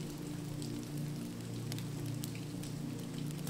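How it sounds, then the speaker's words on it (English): Rain patters steadily on old windows at a cozy cottage at night, a soft continuous wash of drops with scattered brighter ticks over a low hum, fairly faint. "The crackling fire and the rhythmic patter of rain have cast a spell on you"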